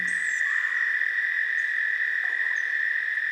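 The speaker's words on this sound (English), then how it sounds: "this is a chorus of frogs, including the northern chorus frog, American toad, and cricket frog" A night chorus of frogs, including northern chorus frogs, American toads and cricket frogs, makes a steady, dense, continuous trill that holds at the same loudness throughout, with faint higher calls drifting over it.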